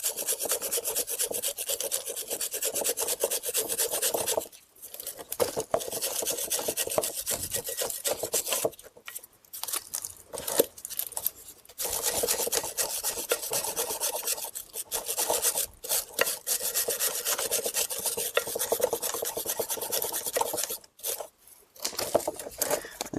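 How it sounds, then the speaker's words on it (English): A wire brush scrubs corrosion off a brake bracket on a Chrysler Town and Country or Dodge Caravan, a rapid, harsh raspy scraping in long back-and-forth bursts with short pauses, close and steady. "take a wire brush and we want to remove any corrosion that we have on there"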